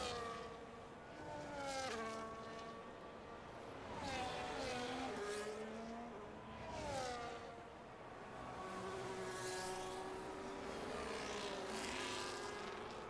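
Open-wheel race cars in a Brazilian Grand Prix video game scream past one after another, their high engine whines sweeping up and down in pitch as they pass, layered and continuous.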